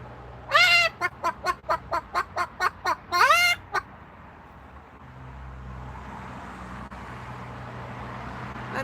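A bird, probably a chicken or other fowl on a patio, gives a quick burst of about a dozen loud, rhythmic clucking calls close by, then goes quiet over faint outdoor background noise.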